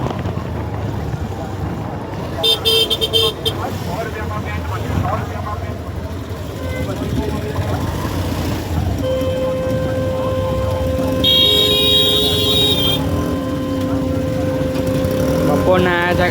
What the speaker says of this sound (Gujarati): અત્યારે ટ્રાફિક જામ થઈ ગયું છે.